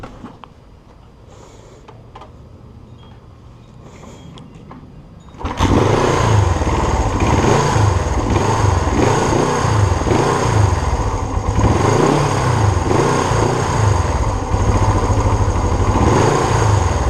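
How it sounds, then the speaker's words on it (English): A 1975 Honda CL360 motorcycle with an idling fault turns over and fires up partway through, then settles into a loud, close, uneven idle with a rough, pulsing lumpiness and clattering mechanical noise. "I'll start this up and show the idling problem that I have right now"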